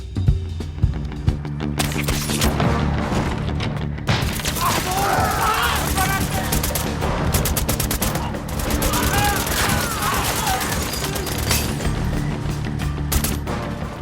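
Rapid bursts of gunfire sound effect rattle almost continuously, loud and dense, with heavy booms and mechanical clatter mixed in.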